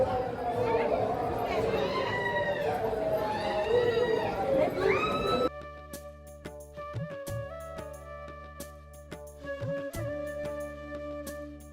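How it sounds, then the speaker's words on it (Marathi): A crowd waits in the queue at the Kanifnath temple, a dense murmur of many voices chattering, then softer background chatter under music. "हे बघा गर्दी"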